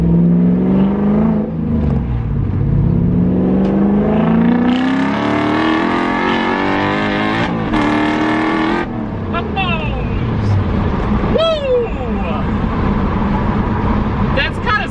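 A drift truck's loud engine revs and falls repeatedly, with pitch climbing and dropping through several gear changes, while a person talks excitedly over it.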